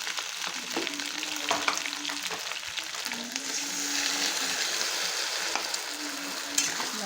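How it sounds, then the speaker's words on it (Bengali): Spices stirred into fried potatoes and taro in a hot pan, continuous sizzling with repeated scraping and tapping of a spoon against the pan. "মশলা দিয়ে ভালো করে নেড়ে নেব।"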